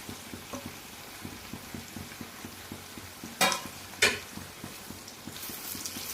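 Sliced onions frying in oil in a pan for prawn biryani, with a soft steady sizzle, a faint rhythmic scraping pulse and two sharper stirring clatters near the middle.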